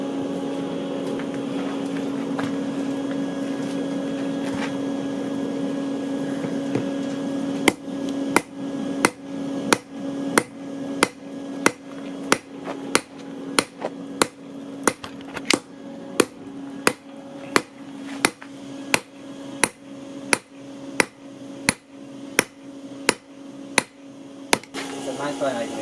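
A hammer strikes hot rebar on an anvil while forging a knife, a steady run of about twenty sharp metallic blows at an even rhythm, loud and close over a constant background hum.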